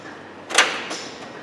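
A short metallic slide and clunk of a Husky mobile workbench toolbox drawer being pulled open, moderately close, followed by a softer second scrape.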